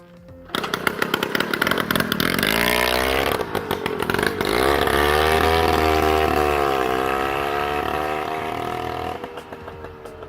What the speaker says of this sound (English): So I took the Tomos for a test ride.